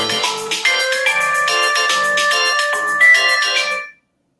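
A mobile phone ringtone plays a bright, repeating melodic tune, loud and close, for about four seconds before cutting off abruptly, with no talking over it.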